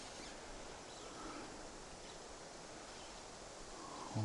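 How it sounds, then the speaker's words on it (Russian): Wind sweeps steadily through a dry autumn pine forest, a continuous broadband rustle and rush of needles and branches, fairly close and even in level, with no voices. "Опять поднялся ветер. Лес гудит, скрипит."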